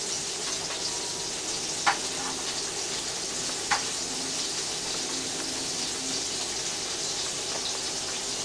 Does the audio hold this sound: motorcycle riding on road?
no